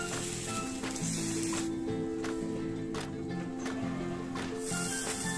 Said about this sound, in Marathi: तेल घालून घेतले आणि आता त्यावरती पुन्हा पळीने पीठ घालून घेते